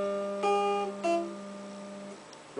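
An acoustic guitar strums two quiet chords as part of the Happy Birthday melody, each left to ring, faint and close with no talk.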